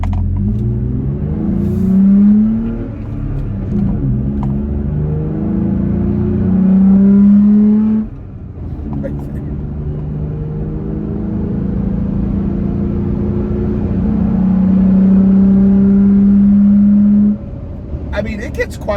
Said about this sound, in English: I'm going to run it through the gears pretty quickly, up to about 55, 60, something like that